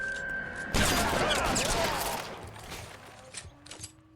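Gunfire in the video game L.A. Noire: a sudden loud burst of shots opens the clip, then tails off into quieter game sounds with a couple of faint sharp hits near the end.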